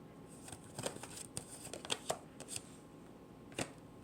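Tarot cards are shuffled and drawn, giving a run of soft riffling and sharp snapping flicks with a few louder slaps near the end, close and clear with no talk.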